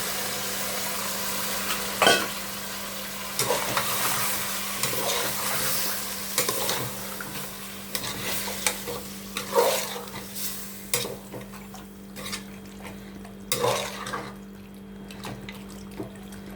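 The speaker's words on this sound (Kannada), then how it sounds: "ಮ್ಯಾರಿನೇಟ್ ಮಾಡಿ ಇಟ್ಟಿದ್ನಲ್ಲ ಅದು ಮಟನ್ ಹಾಕ್ತೀನಿ ಈಗ" Marinated mutton sizzling and frying in a pan with tomato and salt, stirred now and then, giving steady close crackle with scraping and clattering strokes of a utensil against the pan and a constant low hum underneath.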